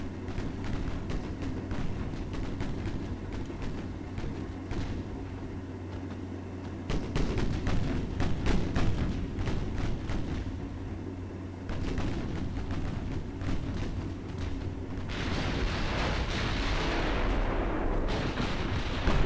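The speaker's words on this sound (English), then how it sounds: "Got our entire task group is firing on this one destroyer, and it won't die." Naval gunfire from a warship task group in the video game Ultimate Admiral Dreadnoughts, all ships shooting at a single destroyer; dense, continuous rumbling barrage of overlapping booms and cracks, loud and unbroken with no talk.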